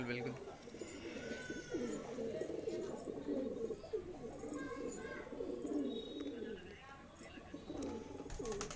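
Andhra pigeons coo softly and repeatedly nearby in a loft, with people talking over the low burbling calls.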